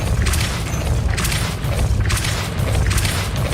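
In the Hogwarts Legacy video game, a Depulso force spell goes off with a loud rumbling burst and several rolling booming surges, a dense, close and continuous blast of sound with no talking over it.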